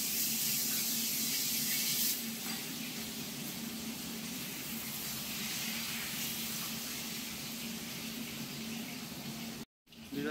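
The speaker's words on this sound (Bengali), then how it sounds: "এবার দিয়ে দেওয়া হলো তেলে একটু আলু।" Potatoes dropped into hot oil while cooking a tilapia dish give a steady, soft hiss of frying that runs on evenly for several seconds.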